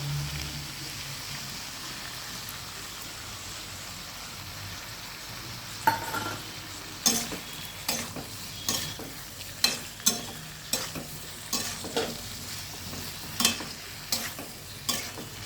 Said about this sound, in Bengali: এবার দিয়ে দেবো সর্ষে বাটাটা।